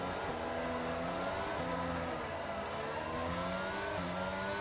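A pack of F1 22 race cars launching off the start at Monza, Italy, engines screaming and revving together in rising gear sweeps, loud, dense and continuous with no talk.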